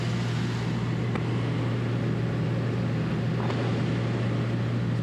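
A sailboat motoring through a calm, windless stretch at sea on its diesel engine, giving a steady low drone with a constant hum beneath broadband water and wind hiss, continuous and even throughout.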